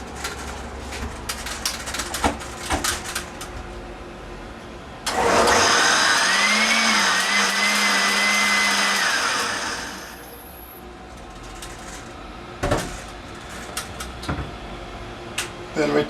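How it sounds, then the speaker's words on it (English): A blender whirs loud and steady for about five seconds, pureeing fresh grape samples taken from incoming bins for kosher grape juice production, then winds down as background chatter and clatter continue. "Put them in the blender."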